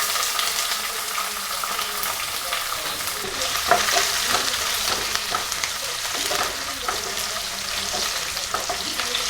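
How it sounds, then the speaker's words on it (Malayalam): Mustard seeds, ginger, garlic, green chilli and curry leaves sizzle loudly in hot oil for a pickle, a dense close crackle with spatters and stirring scrapes, continuous and without talk. "കടുക് പൊട്ടുമ്പോഴും നമ്മൾ അരിഞ്ഞു വെച്ചിരിക്കുന്നത് ഇഞ്ചി, വെളുത്തുള്ളി, പച്ചമുളക്, കറിവേപ്പിലയും കൂടെ അതിനകത്തോട്ട് ഇട്ട് കൊടുക്കാം."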